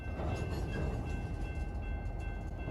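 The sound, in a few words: locomotive sounds on a model railroad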